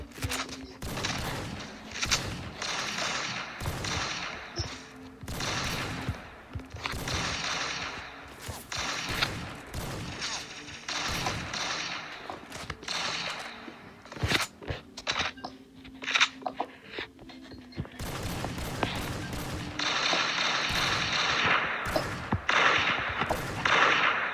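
Rapid, loud bursts of Barrett rifle fire and other gunshots crack in the video game Arsenal during a 1v1 match, repeating in dense volleys with short gaps between them.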